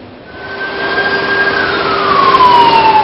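A wailing ambulance siren rises and slowly falls in pitch over steady traffic and engine rumble, loud and fairly close.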